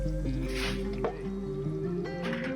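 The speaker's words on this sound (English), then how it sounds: "now we're gonna go ahead and add our crawfish that were cleaned off and rinsed off very well" Cleaned, rinsed crawfish drop into a pot of Cajun-style gumbo with wet squishing and dripping sounds, close and steady, and no one speaks.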